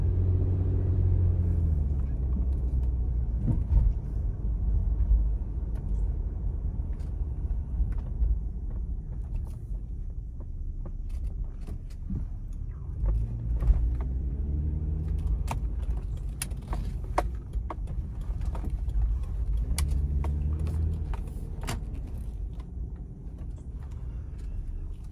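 A 2005 Toyota 4Runner Limited is driven, heard as a steady low engine and road rumble from inside the cabin. Faint rattles and clicks sit on top of the rumble throughout.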